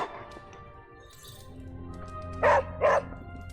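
Dog barking in the video game Midnight Suns, two short, loud barks close together near the end over a steady game soundtrack.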